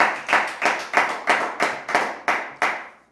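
Clapping from a church congregation acclaiming God, about eight loud, near, evenly spaced bursts of many hands in unison, each one decaying before the next, with no voices.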